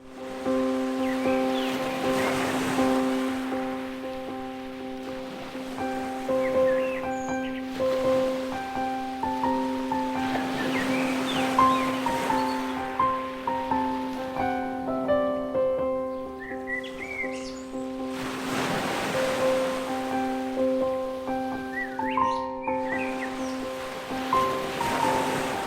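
Sea waves washing onto the shore, a steady near surf roar with gentle swells rising every few seconds, while birds chirp and a sustained musical tone plays over the top.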